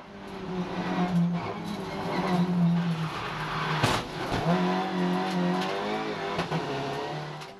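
Onboard a Seat Leon touring race car, number 7, racing through a chicane at Colmar-Berg: a loud, steady engine drone with shifting revs, a brief dip and gear change midway, continuous throughout.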